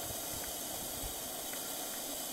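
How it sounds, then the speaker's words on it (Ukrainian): Water boils in an uncovered pot heated by a solar concentrator outdoors, a steady broadband hiss and seething bubble noise that stays even and continuous throughout, with no voices. "Але все одно, навіть і без кришки кипить, бачите?"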